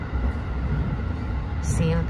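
Low, steady rumble of a train riding in Japan, heard from inside a carriage near Kyoto, under a brief spoken phrase, with a short higher whine near the end.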